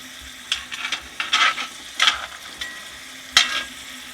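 A pot roast sears in a cast iron pot on a sailboat stove, soft sizzling broken by intermittent scraping and stirring bursts, close and fairly quiet.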